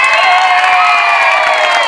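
At a countryside farmers' day festival, a crowd cheers for a contestant during an elimination round. Loud sustained shouting and cheering mixes with children's voices and scattered clapping in a short burst.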